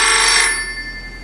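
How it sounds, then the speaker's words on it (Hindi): A telephone rings in a radio-drama scene, a loud, bright electronic ring that holds for about half a second and then fades into a lingering tone, with no voices over it. "शायद अस्पताल से फोन होगा"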